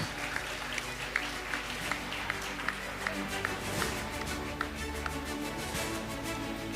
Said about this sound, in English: May we request the audience to please cheer the graduates with a mild clap